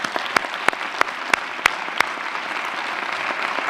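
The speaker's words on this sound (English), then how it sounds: "I'd like to offer them a great round of applause" Audience applause for teachers, principals and administrators at a school districts' state-of-the-schools event, heard as sparse, scattered claps with a few sharp individual slaps over a hushed room, thinning out quickly.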